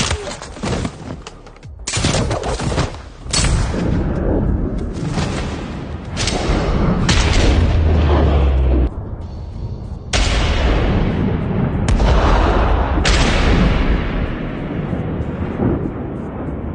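Loud, booming shotgun blasts at point-blank range in an action film scene, several heavy reports layered over a continuous dense barrage of gunfire and rumble that barely lets up.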